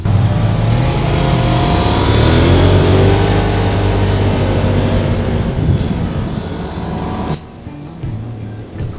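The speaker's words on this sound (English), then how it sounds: "The Polaris RZR S is an awesome all-around machine on a great budget." A Polaris RZR S side-by-side revs hard on an off-road ravine trail, a loud, close engine roar rising and falling in pitch before cutting back abruptly near the end.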